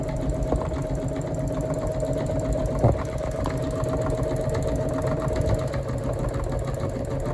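A Singer EM200 embroidery machine runs steadily at close range, giving off a continuous mechanical hum and rapid stitching rattle with a brief clunk partway through.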